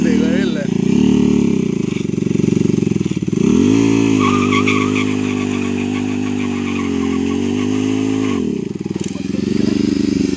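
A Bajaj Pulsar RS200 motorcycle engine revs hard and holds high during stunt riding, loud and close, with a drop and re-rev midway and people talking over it.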